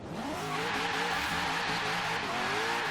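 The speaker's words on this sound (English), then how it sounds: "Get those back tires just spinning, man." A Z06 Corvette in Forza Horizon 3 spins its rear tires with a continuous high tire squeal over a revving, climbing engine note, loud and close throughout.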